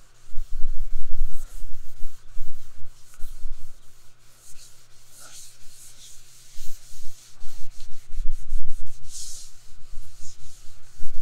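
A Scotch-Brite pad scrubs a gelcoat surface to strip off wax, making close, loud, rhythmic rubbing strokes that surge and fade in repeated bursts, with no talking.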